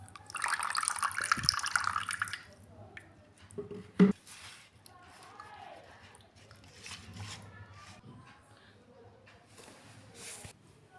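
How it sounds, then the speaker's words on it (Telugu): Water is poured into a pan for fish curry, a brief splashing gush at the start that then fades, followed by quieter clinks and soft movement in the kitchen. "దీనిలోనికి కొంచెం వాటర్ వేసుకోవాలండి"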